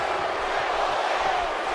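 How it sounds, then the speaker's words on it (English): A large arena crowd in the WWE 2K18 wrestling game, a dense continuous roar of many voices that holds steady and loud through the moment with no clear rhythm of a chant. "This crowd's very pro Triple H right now. Chanting Triple H, Triple H, Triple H."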